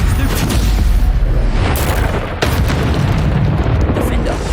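Bombarda spell explosions in Hogwarts Legacy, deep booming blasts and crackling bursts repeating loudly during spell-casting combat, mixed with game effects and a voice speaking over them.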